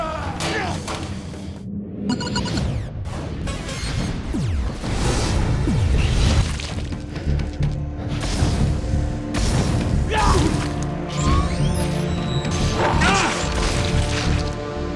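Rivet gun shots in Dead Space: Extraction hit with heavy thuds and metallic smashes amid loud, dense game action, explosions and whooshes, continuous and close throughout.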